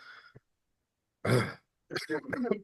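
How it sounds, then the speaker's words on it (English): A short, rough throat-clearing cough, close and isolated, followed by a second gruff burst after a pause. "I'm still coughing quite a bit"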